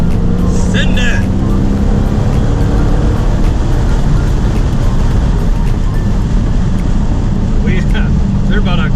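A manual Dodge Hellcat runs hot laps on a desert race track near Phoenix, Arizona, its engine a steady loud roar with wind rush throughout, and brief higher tire or whine accents near the start and end.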